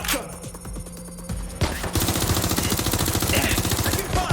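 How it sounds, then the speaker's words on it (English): Gunfire erupts in Watch Dogs Legion: scattered shots and impacts at first, then a loud, dense stream of rapid automatic fire that runs to the end, with bell-like electronic tones layered in. "Taking fire!"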